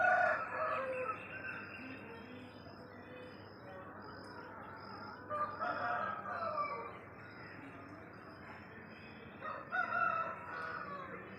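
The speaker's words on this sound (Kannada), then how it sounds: "ನೋಡಿ, ಒಂದು ಕೋಳಿ ಹುಂಜಿ ಹೆಂಗೆ ಕೂಗ್ತಾ ಇದೆ." A rooster crows twice in the early morning, each call a drawn-out harmonic cry rising over a faint background hum, heard from a short distance with no talk.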